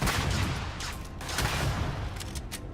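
Rapid bursts of gunfire from a gun in the sci-fi video game Starfield, loud and dense over a sustained battle din, with repeated shots clustering through the whole stretch.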